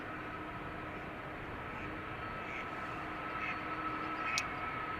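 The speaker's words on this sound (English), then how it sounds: "This is Delta flight 257 outbound to Boston, A330-300, 16 years old." A 16-year-old Delta Airbus A330-300 departs runway 36L at Amsterdam Schiphol with a steady, distant jet roar that holds level throughout, heard alone.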